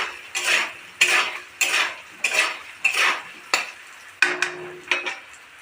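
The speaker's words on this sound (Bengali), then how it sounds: "দিয়ে নাড়িয়ে চাড়িয়ে নেবে" A utensil stirs potatoes with turmeric, chili powder and salt in a pan, making regular sharp scraping clinks about once a second, close and loud, with a light sizzle between strokes.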